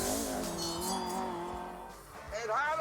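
A 1.6-litre car engine revs hard in The Grand Tour Game, a continuous buzzy whine that climbs in pitch near the end, with tyre noise and faint talk mixed in.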